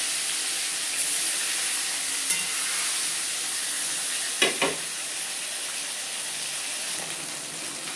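Food sizzles steadily in hot oil in a frying pan during cooking of a koi fish curry with drumstick and potato, a constant hiss with a few sharp spits and stirring taps, no talking.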